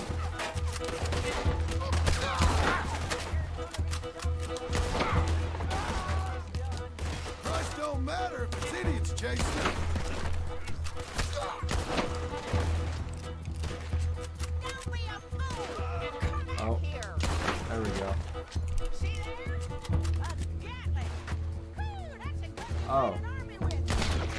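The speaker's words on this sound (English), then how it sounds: "shoot this guy" Rapid video game gunfire fills a shootout, with dense bursts and overlapping shots running continuously under a player's voice talking.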